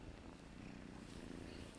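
A new kitten purrs close by in a soft, continuous low rumble that stays steady throughout, with no voices.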